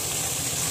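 Bagda prawns fry in hot oil in a pan, giving a steady, bright, hissing sizzle that stays close and even throughout, with no talking.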